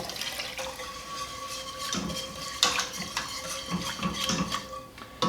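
Milk is poured into a pot for mac and cheese, a soft liquid trickle under clinking and scraping of the pot and utensils, with sharper metallic knocks spread throughout.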